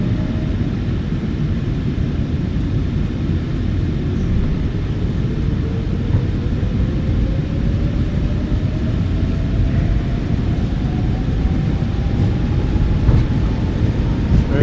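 A PMDG 737-900 in a flight simulator spooling its jet engines up to takeoff throttle, a loud steady roar with a faint tone slowly rising in pitch, and no talk over it.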